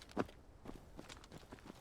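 Footsteps from a player character in the VR shooter Vail during a competitive match tread in a quiet, steady rhythm, with one louder step near the start and fainter steps after.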